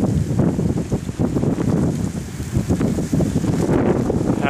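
Strong, gusting wind roars during a 2013 snow blizzard with drifting snow and bitter cold, buffeting the microphone with a steady, rough rush throughout, no voices.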